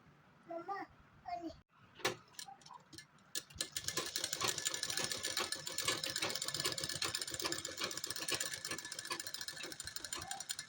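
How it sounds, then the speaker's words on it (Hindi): A sewing machine stitches along the edges of lace cut pieces on a homemade suit, a steady fast mechanical rattle that starts after a few seconds of brief talking and continues up close. "इसे सिलाई करूँगी बिल्कुल किनारे से"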